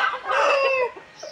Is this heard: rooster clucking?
yes